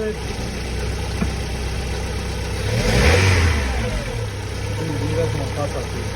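A Volkswagen Golf 4 car engine idles, then revs up once to a swelling peak around the middle and falls back to idle, heard close with a steady background hiss.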